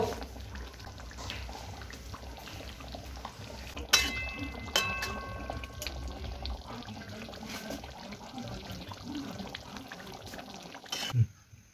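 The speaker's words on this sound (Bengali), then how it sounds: "এবার এটাকে ঢেলে নেব।" Mustard fish curry with bata fish poured from a pan into a bowl, a soft continuous liquid slosh with occasional clinks of the vessels, fairly faint and close, without talk.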